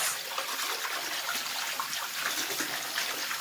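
Water being mixed to a gradual change in temperature for lanolizing wool covers, giving a continuous close splashing and trickling wash with no talk over it.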